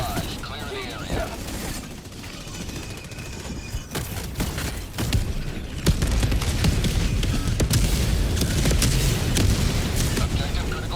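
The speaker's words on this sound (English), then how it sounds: "Firing orbital barrage." Orbital barrage in Helldivers 2, a run of heavy booming explosions that swell louder and denser in the second half, with in-game voice callouts over the rumble.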